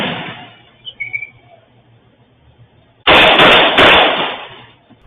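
Police officers fire into a convenience store: a faint pop and scattered clicks, then a loud burst of gunshots that rolls into a ringing, decaying roar, with a second sharp blast inside it.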